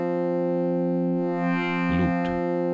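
Sustained Yamaha SY77 synthesizer pad tone whose looped envelope adds a wavering, rhythmic swell partway through, with brief low thumps near the end; no talking.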